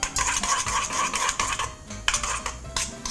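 A spoon stirs yogurt seasoned with a little salt and black pepper in a bowl, giving quick repeated clinks and scrapes against the bowl in a brisk rhythm with brief pauses.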